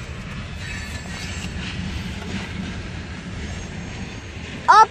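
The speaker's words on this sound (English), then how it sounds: "the train is moving" Low, steady rumble of a long freight train rolling along the tracks at a distance near a station, ending with a brief high squeal.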